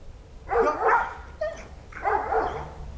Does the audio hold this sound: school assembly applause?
no